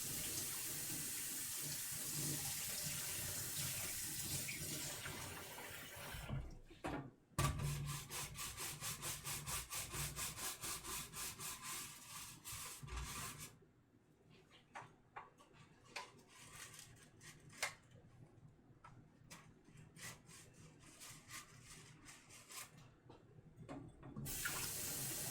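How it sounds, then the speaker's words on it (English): Food is grated on a dirty kitchen grater while making cottage pie, with close, rapid rasping strokes in steady runs, a brief pause, then sparser scraping and knocks before a final burst of grating. "Run that through my not so clean looking grater here."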